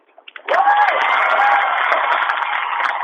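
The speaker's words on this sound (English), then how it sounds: "A round of applause for the Mountain Cats." Crowd at a Montana Class C 8-Man state football awards ceremony bursts into loud applause and cheering for the second-place team, rising suddenly after a brief quiet start and holding steady, with whoops and a whistle over the clapping.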